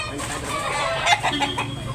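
A chicken for sale clucks close by in several quick, clustered calls over a steady low background murmur.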